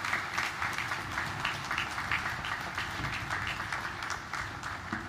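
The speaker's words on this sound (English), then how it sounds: "How about another round of applause for the chaplain for that little sprinkle?" An audience at a US Navy ship commissioning ceremony for USS Fort Lauderdale applauds steadily, a dense patter of many hands clapping at moderate distance, continuous throughout.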